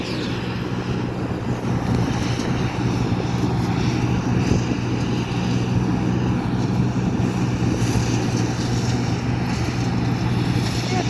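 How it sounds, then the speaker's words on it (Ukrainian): Loud, steady mechanical drone of a John Deere 955 combine harvester threshing soybeans, with a low engine rumble and a constant rattling, grinding texture throughout. "Зараз будемо молотити нашу сойку."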